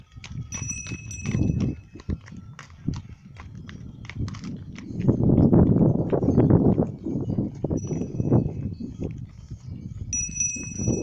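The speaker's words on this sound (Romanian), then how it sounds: "Trei cai și două capre negre." Three horses walking on the Transursoaia mountain pass, their hooves clopping in a steady uneven rhythm at close range. A faint ringing tone, likely bells, sits above the hoof steps, with no voices.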